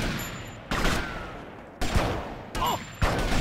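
Gunfire in the video game GTA Vice City, three loud bursts of rapid shots separated by brief lulls, each cutting in sharply over a background hum.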